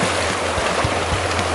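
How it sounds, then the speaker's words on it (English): Sea water washing over a rock shelf at Eaglehawk Neck, Tasmania, a steady broadband rush of surf and water with low rumbling surges, continuous and fairly loud with no talk. "here comes water washing over the shelf"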